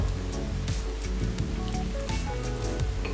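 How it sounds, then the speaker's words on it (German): Water pours steadily over porridge oats in a bowl, a close, continuous splashing and trickling sound with no voices. "mit Wasser übergießen"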